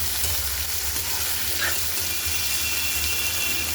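Chopped onion hits hot oil in a pan and sizzles loudly, a steady dense frying hiss that fills the whole stretch close up, with a low background rumble and no talking.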